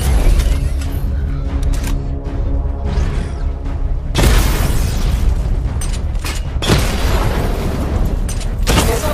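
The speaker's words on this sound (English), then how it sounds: "Destroy targets to charge up weapon energy and activate missile barrage." A rapid missile barrage from the Batmobile in Batman: Arkham Knight, with loud booming explosions and bursts, a dense volley early on and heavy blasts around four and seven seconds, under continuous game action with no talk.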